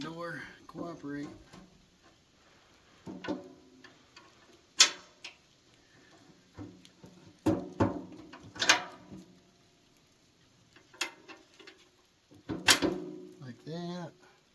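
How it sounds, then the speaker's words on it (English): An old woodstove's cast iron door is worked open and shut during restoration, giving scattered sharp metallic clanks and latch clicks close by, with someone speaking between them. "Come on, door, cooperate."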